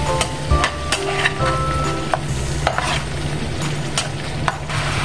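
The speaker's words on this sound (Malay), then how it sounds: "Teruskan kacau macam ni." Frying sambal udang with onion and chili is stirred in a pan, giving continuous loud sizzling with repeated scraping and tapping of the utensil against the pan.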